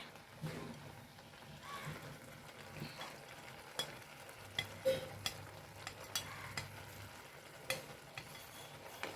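Okra frying and being stirred in a pan for pachadi, a low steady sizzle with scattered spoon clinks and scrapes against the pan, close and moderately quiet.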